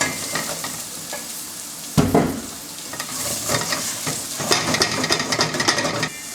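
Thai shallots sweat gently in rendered bacon fat, giving a steady close sizzle. Stirring and the scrape of a utensil against the pan come and go, with a sharper clatter around the two-second mark.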